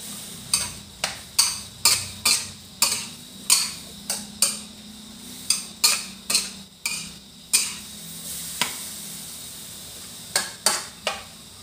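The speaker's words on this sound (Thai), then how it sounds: "ผัดบักแตงให้สุกก่อนเด้อจ้า" Cucumber being stir-fried in a pan with a spatula, making a steady run of sharp metallic scrapes and taps at an uneven rhythm, close and fairly loud, with a low background hum and no talking.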